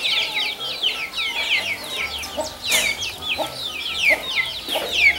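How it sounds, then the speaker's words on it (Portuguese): A giant Indian rooster clucking and chirping close by on a farm, with rapid repeated calls, short bursts and some faint rustling behind, alongside softer chick peeps. "esse é o galo índio gigante para vocês conhecerem."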